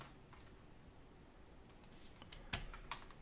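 Typing on a computer keyboard while entering CAD commands, a few faint soft key clicks followed by a sharper louder keystroke near the end, quiet and close.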